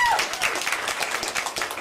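Applause from an audience at a Michigan State University Board of Trustees meeting: steady, dense clapping that stays fairly loud and even for the whole short stretch, with some faint crowd noise mixed in.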